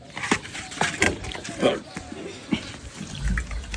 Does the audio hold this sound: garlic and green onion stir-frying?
no